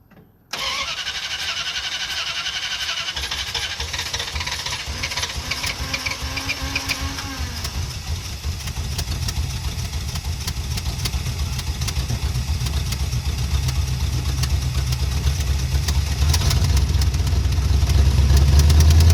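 A 1973 Dodge Charger with a big block Mopar V8 starts for the first time in years: a sudden starter crank catches into a loud, rough, rumbling idle that grows heavier and steadier over the following seconds.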